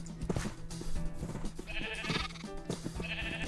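Minecraft sheep, one of them orange, bleat repeatedly at close range, their short wavering calls overlapping against faint game sounds.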